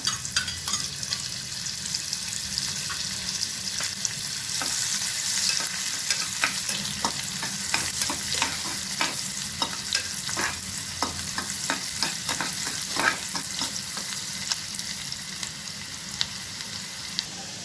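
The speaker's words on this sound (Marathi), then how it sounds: "कांदा परतून घेऊया" Oil sizzles steadily as onions fry in a pan, with frequent scraping and clinking of a spoon stirring throughout.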